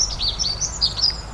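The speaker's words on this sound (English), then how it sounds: "That bird is literally so loud." Loud bird song outdoors, a series of bright chirps and short trilled phrases repeating over steady low background rumble, close to the microphone.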